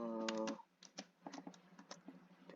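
Keys on a computer keyboard tapped while typing a math formula, giving soft, irregular clicks in short bursts, close and quiet, after a brief tonal sound at the very start.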